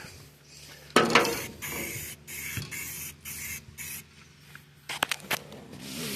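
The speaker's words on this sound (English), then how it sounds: "Trying to spray paint." Bursts of hissing aerosol spray paint on a 1950 Chevy fender, several short sprays and one longer burst, close by with no talking.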